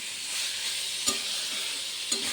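Curry being stir-fried in a pan, a steady close hissing sizzle with two sharp clacks of the spoon against the pan.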